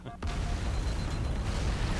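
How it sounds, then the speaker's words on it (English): A single explosion goes off in the video game Halo: Combat Evolved, a sudden burst followed by a sustained low rumbling roar that carries on for about two seconds. "I thought he died in the explosion."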